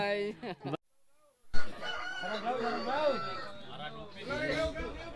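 Roosters crow and hens cluck at a village cockfight in Indonesia, among a crowd of people chattering nearby, after a brief moment of silence near the start.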